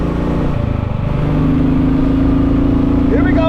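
Royal Enfield 350 motorcycle engine running close by, a loud steady thumping idle that rises slightly as it revs, with a voice talking over it.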